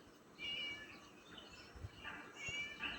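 A cat meows inside the Scary Teacher 3D video game, a few faint, high calls surfacing briefly over a steady, noisy game background with no one speaking.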